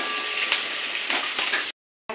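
Onion frying in oil in a pan, a steady close sizzle with a few stirring clicks, cutting out abruptly before resuming briefly.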